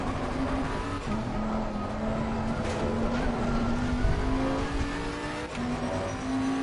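A GT race car in Assetto Corsa Competizione during an eight-hour endurance race at the Nürburgring holds a steady, loud engine drone with a continuous high-rev tone and slight pitch shifts, heard alone with no talk.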